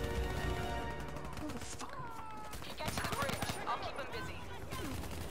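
Gunfire crackles in Call of Duty: Black Ops 3, with sharp shots in short bursts that are clearest in the middle, mixed with game noise and speech.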